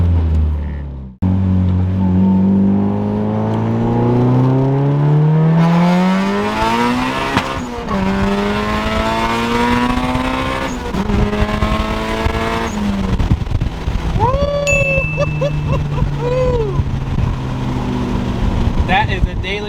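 A big-turbo 2000 Honda Civic EM1 pulls hard through the gears, its engine note rising in long sweeps with shifts between, plus turbo whistle and flutter, loud and close from inside the car with people talking over it.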